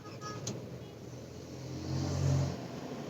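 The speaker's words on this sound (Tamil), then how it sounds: "இது 3 சிலிண்டர் டர்போ பெட்ரோல் இன்ஜின்." A Hyundai i20 DCT with a 3-cylinder turbo petrol engine starts: a brief crank, then a low hum that swells briefly into a soft rev near the end before settling into a quiet, refined idle.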